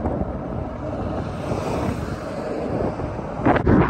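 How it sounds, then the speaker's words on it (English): Wind blows against a skateboarder riding along a road, buffeting the microphone with a loud, continuous rush that swells and gusts harder near the end. "it feels like the wind is blowing against me"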